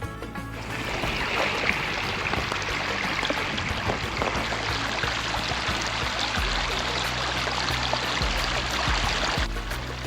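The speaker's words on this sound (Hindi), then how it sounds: "बीबी नानी के नदी में बहने वाला जो पानी है ना" River water at Bibi Nani in Bolan Valley rushes steadily past close by in an unbroken stream, with no voices over it.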